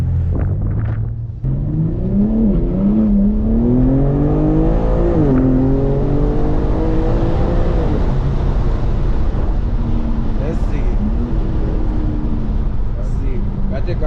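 A 2021 BMW M4 Competition engine pulling hard while being driven and drifted, a loud rising roar that climbs through the revs then settles into a steady drone under wind noise, heard from inside the car.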